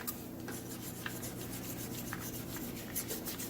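Clear coat on a 1958 MGA is wet-sanded by hand, a soft, steady rubbing and scratching close up, with faint rhythmic strokes and small clicks throughout.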